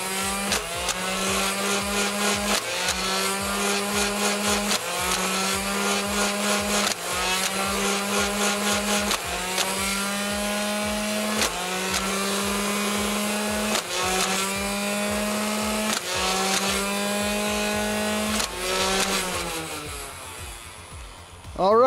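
A Nerf Ultra One blaster's flywheel motor whirs loudly and continuously, with a rhythmic mechanical cycling roughly every two seconds as darts are fed and fired, fading out at the end.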